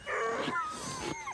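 Several sled dogs yip and whine excitedly before a winter ride on the ice, short high cries overlapping with a person's voice nearby.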